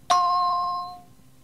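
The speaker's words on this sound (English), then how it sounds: "Immediately after the cueing chime" A single bright cueing chime from an answering machine message cassette rings out once and decays smoothly over about a second, clear and alone with no talk.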